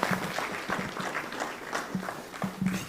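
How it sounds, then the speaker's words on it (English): Audience applause for the Digital Hut team at a cybersecurity tech hackathon: scattered, moderately loud clapping from a crowd, steady across the whole moment with individual claps standing out. "Let's clap hands for Digital Hut."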